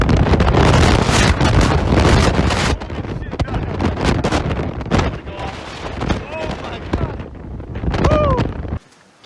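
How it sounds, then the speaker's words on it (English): Strong wind buffets the microphone at the Pictured Rocks cliffs, loud, rough gusts roaring for the first few seconds, then easing into intermittent blustery rumbles, with a person speaking in between. "All right, so it's pretty windy."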